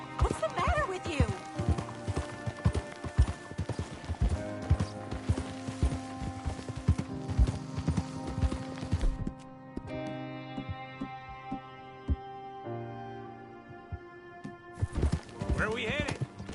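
Video game horse hooves from Red Dead Redemption 2 clip-clop steadily in a galloping rhythm, close and loud, with a horse whinny, music and a voice over the top; the hoofbeats drop out midway.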